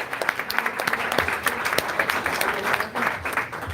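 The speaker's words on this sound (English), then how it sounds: "Let's give a round of applause for the parents who got their kids out of the house in the morning" An audience at a New Year's Day livestreamed political event applauds steadily, a dense wash of many hands clapping throughout, with a bit of crowd noise mixed in.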